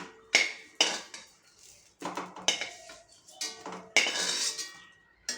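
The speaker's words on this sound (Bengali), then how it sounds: "এবার আমি এই বেগুনগুলোকে তুলে নিচ্ছি।" Fried brinjal pieces are lifted from a pan with a metal utensil, giving several sharp clinks and scrapes against the pan at irregular intervals, each ringing briefly before the next.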